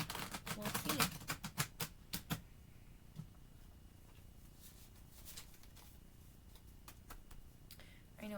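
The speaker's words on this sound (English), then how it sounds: "I just like to do a basic shuffle for mine." A deck of tarot cards gets a basic hand shuffle, a quick run of crisp riffling flicks up close, then scattered softer card snaps and slides against a quiet room.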